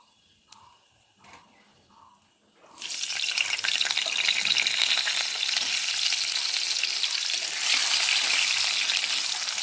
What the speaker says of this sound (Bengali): ফোড়নটা একটু ফুটে উঠলে ছেড়ে দেব আলু।